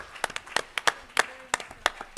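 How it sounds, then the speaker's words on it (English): A small audience at a policy dialogue gives a brief, light round of applause: sparse, separate claps in an irregular patter, fairly close and fading out after a couple of seconds, with no talking over it. "give a quick round of applause to these four gentlemen"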